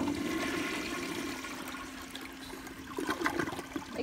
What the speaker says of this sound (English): I'll give it a flush